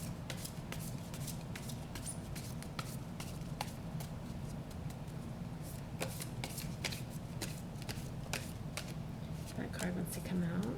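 Tarot cards are shuffled by hand in quick, repeated riffling flicks for a reading, close and fairly quiet, while someone talks over them.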